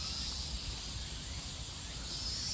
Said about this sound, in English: The cicadas. I love the sound of the cicadas though.